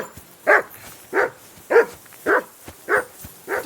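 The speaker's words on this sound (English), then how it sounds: "Call that dog, Henry. Who the hell can listen to that?" A dog barks in the medieval video game Kingdom Come: Deliverance 2, six evenly spaced single barks at a steady rhythm, fairly close over a quiet background.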